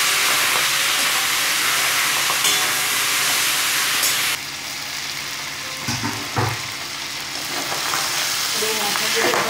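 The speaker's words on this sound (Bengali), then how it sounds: "মাথাগুলো ভাজা হয়ে যাচ্ছে" Boal fish heads frying in a pan give a loud, steady sizzling hiss that drops in level midway, followed by a couple of stirring knocks and scrapes as the frying continues.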